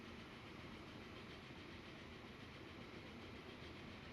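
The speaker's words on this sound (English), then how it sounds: "And we have the next train coming here." A passenger train pulls into a station in Transport Fever 2, a steady, faint rumble of rolling rail cars with light clatter, continuous and distant-sounding, with no voices.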